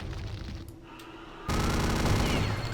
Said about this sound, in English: It's basically a minigun.